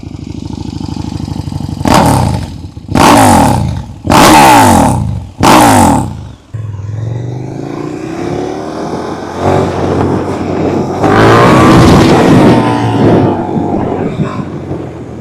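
A KTM 1290 Super Duke R motorcycle revs hard in four loud, sharp blips near the microphone, then settles into a throaty idle and builds once more into a rising rev.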